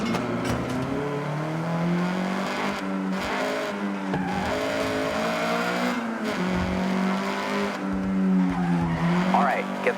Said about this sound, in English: All right, get the CRX up to speed.